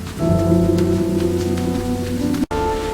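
Heavy, continuous rain pouring at night over flooded streets in Dhaka, a dense steady hiss close by with a low rumble beneath, cut briefly near the end.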